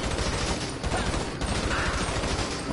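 Tommy gun gunfire in Grand Theft Auto V, a continuous loud rattle of rapid automatic bursts with dense overlapping shots and no pauses.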